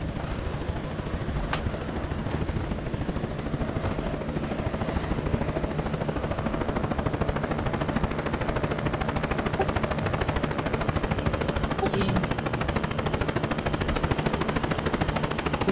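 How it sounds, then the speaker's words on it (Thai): Helicopter in the zombie survival game Project Zomboid, a steady rotor drone and whooshing hum holding constant throughout, sounding fairly distant and noisy with no voices over it. "ได้ยินเสียงเฮลิคอปเตอร์แล้ว"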